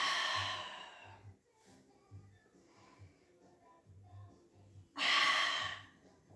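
Audible breaths during a Pilates exercise, with a strong exhale at the start and another near the end, low rhythmic thumps between them, and quieter breathing in the middle.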